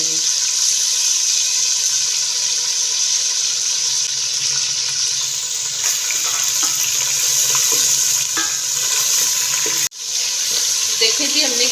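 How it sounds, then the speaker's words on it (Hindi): Chicken liver frying in hot oil with cumin, a loud, continuous, close-up sizzle with a hissing, bubbling texture that holds steady throughout, broken by one brief dropout near the end. "अब मैं इसमें कलेजी फ्राई करूंगी"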